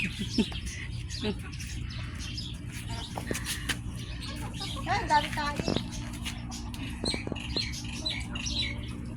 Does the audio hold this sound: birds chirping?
yes